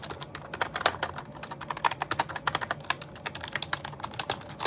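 Rapid typing on a Snpurdiri 60% wired gaming keyboard with RGB backlighting, a steady stream of crisp close-up key clicks with uneven rhythm and occasional louder taps.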